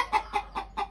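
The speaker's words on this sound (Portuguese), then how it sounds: "Olha lá, a galinha até botou ovo." A hen clucks four times in a quick, even rhythm, each short nasal cluck close and clear against a quiet background.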